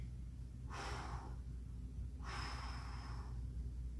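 Two slow, breathy exhalations, steady and fairly close, held during a stick-mobility exercise while squeezing the glute, each lasting about half a second over a quiet low hum with no talking.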